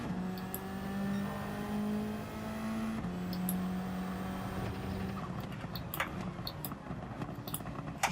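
Race car engine in Gran Turismo at Suzuka, an F4 car droning at steady pitch with shifts in tone as it accelerates and brakes, close and continuous, ending in rougher, choppier engine noise.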